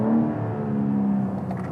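A 2021 BMW G82 M4 Coupé engine revs toward the red line, a loud, close, steady drone that briefly rises in pitch over less than two seconds.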